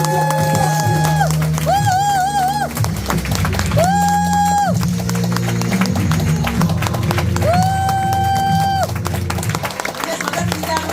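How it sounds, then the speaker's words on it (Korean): Audience at a business motivational event applauding and cheering a speaker's entrance, crowd noise running beneath loud music with sustained melodic tones and a heavy beat; the clapping is partly masked by the music. "폴라이프 리서치 코리아 프레지던트 박민혜사님 모실 때 뜨거운 박수 함성 부탁드립니다."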